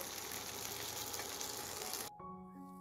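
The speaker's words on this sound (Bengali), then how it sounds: "আর আমি এখন ভাজবো হচ্ছে ওর যে 5 রকম ভাজাগুলো।" Vegetables frying in a pan, a dense steady sizzle that cuts off abruptly near the end, leaving quiet tonal hum.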